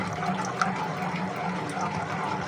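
Water pours into a lassi being mixed, a steady close splashing gush lasting a couple of seconds.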